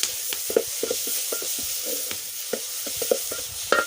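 Chicken is stirred in a hot pot over a village cooking fire after salt goes in, with a steady sizzle under irregular scraping and clinking of the spoon against the pot, close and clear.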